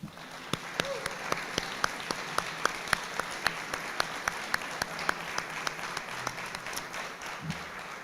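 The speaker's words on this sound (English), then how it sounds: "please stand up so we can give you a round of applause" Audience applause for campus volunteers at a guide dog and service dog graduation ceremony, a steady wash of many hands clapping with sharp individual claps standing out, moderately distant and sustained throughout.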